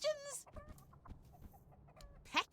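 A chicken clucks in the fantasy video game Tainted Grail: The Fall of Avalon, with a few short nearby clucks and bird calls that begin and end the moment. Quieter voices and game sounds run faintly in between.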